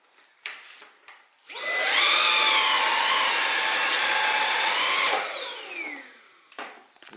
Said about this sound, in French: je mets en vitesse 2 et on va essayer d'aspirer tout ça.